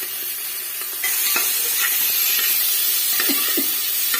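Onions frying in a pan with cinnamon and cloves for pulao, a steady bright sizzle that grows louder after a second, with occasional soft spatula scrapes and no talking.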